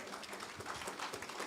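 An audience at an architecture department entrepreneurship program applauds, a faint, steady patter of many hands clapping.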